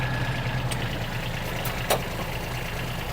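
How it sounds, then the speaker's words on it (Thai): A Kubota B2140 compact tractor's diesel engine idles steadily at low volume, a smooth even rumble with a faint click partway through and no talking over it. "เนี่ยเครื่องยนต์แบบ เงียบ ๆติดง่ายนะครับ"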